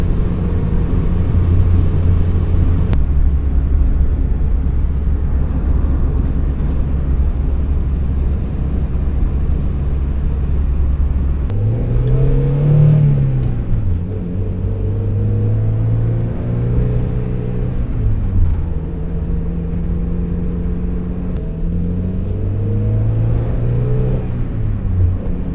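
A 1991 Mazda Miata with a five-speed manual cruising rural Pennsylvania roads: a steady, close engine drone whose pitch climbs and drops through gear changes, with no talking.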